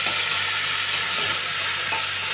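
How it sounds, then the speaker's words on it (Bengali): Nigella seeds and green chili paste hit hot oil in a pan, giving a loud, steady, dense sizzle and frying hiss that holds without a break for the whole short stretch, with no voices. "এবার আমি কালো জিরে আর কাঁচা লঙ্কা বাটাটা দিয়ে দেবো।"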